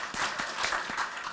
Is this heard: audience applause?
yes